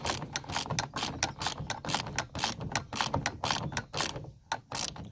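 A socket ratchet tightens the wing mirror bolt on a Ford Fiesta, giving a rapid run of sharp, close clicks in repeated quick strokes with no talk.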